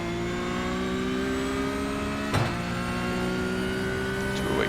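Porsche Cup race car in iRacing at Mount Panorama, a steady sustained engine drone with rising pitch under acceleration and a brief gear-shift blip, loud and continuous with no talk.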